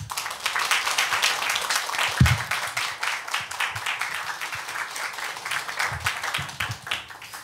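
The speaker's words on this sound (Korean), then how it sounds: "우리 선교사님 나오실 때 큰 박수로 할렐루야 이렇게 환영하시겠습니다" A church congregation claps to welcome a missionary, a moderate wash of applause with a few louder low thumps and bumps, fairly close and continuing throughout.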